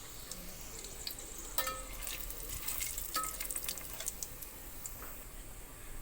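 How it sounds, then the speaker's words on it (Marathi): Whole garam masala spices, including cardamom, star anise, cinnamon and bay leaf, fry in hot oil with a faint, close crackle and scattered sharp pops over a quiet sizzle. "आता गरम मसाले फ्राय झालेत."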